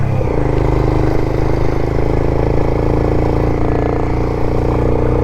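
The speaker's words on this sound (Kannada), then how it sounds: "ಫುಲ್ ಥ್ರಾಟಲ್ ಕೊಟ್ಟಿದ್ದೀನಿ, ಗಾಡಿನೇ ಹೋಗ್ತಲ್ಲ" An off-road motorcycle on a coffee estate runs at full throttle, its engine a loud, steady, close drone that holds without letup.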